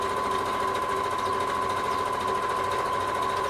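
Sewing machine running steadily while stitching a kimono style wrap top, a continuous close, loud mechanical whir with a fixed motor hum throughout and no talking.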